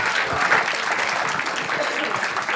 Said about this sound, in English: let's give Andrew another round of applause.